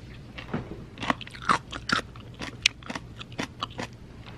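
Close, crisp crunches of food being bitten and chewed, a dozen or so sharp crackling bites in irregular rhythm over quiet background.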